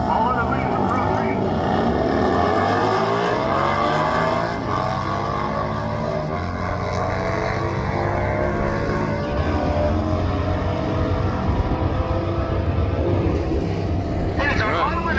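Motorcycles drag racing at Byron Dragway during AMRA test and tuners, a loud sustained engine roar sweeping up and down in pitch with strong wind buffeting, close and continuous, under commentary.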